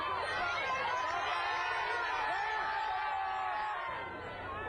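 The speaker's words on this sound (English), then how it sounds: "The audience roared when Pope Francis came by." A large outdoor crowd at a papal Mass roars and cheers as Pope Francis passes by, a dense, sustained wall of voices and whoops that stays loud throughout and eases slightly at the end.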